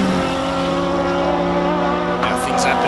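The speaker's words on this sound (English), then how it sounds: "Beautiful car, and it looks and sounds magnificent." A Renault racing car engine drones loudly and steadily at high revs during a hillclimb, with a brief higher whine near the end.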